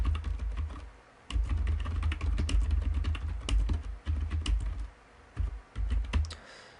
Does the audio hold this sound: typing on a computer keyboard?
yes